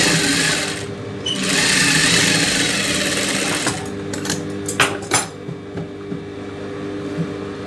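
A sewing machine stitches a child's silk skirt top, opening with a fast, steady mechanical whir that then breaks into short bursts and clicks as the fabric is handled, close and alone.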